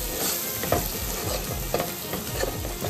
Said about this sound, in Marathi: तेल सुटेपर्यंत आपण मिक्स करून घेऊया।